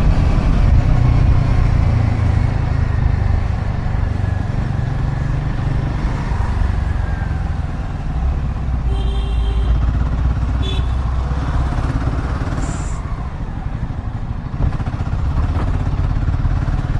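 A Royal Enfield Himalayan motorcycle rides over a potholed road, its engine droning steadily with a constant low rumble and wind noise, and occasional rattles and thumps from the bumps, with no one speaking.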